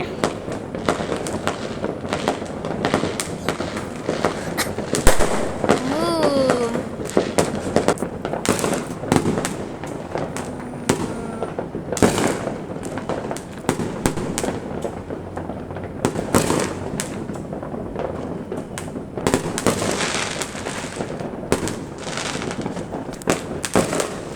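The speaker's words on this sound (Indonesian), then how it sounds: "Sayangnya kita tidak punya kembang api, tapi kita bisa lihat kembang api." New Year fireworks burst and crackle repeatedly at a distance, sharp pops and bangs coming in irregular clusters, with a brief whistle and faint background voices.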